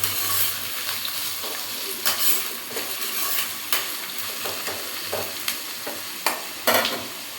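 Onions sautéing in a pan with coarse salt: a continuous loud sizzle, broken by repeated spatula scrapes and knocks against the pan at an irregular pace, close up with no talking.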